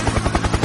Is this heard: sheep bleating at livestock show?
no